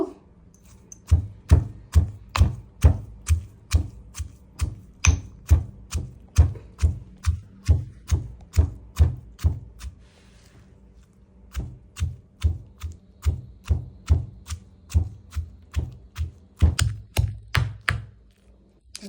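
Garlic, green chilli and coriander pounded with a hand crusher: a long run of sharp, evenly spaced thuds struck close and loud, pausing briefly midway before the steady beating resumes.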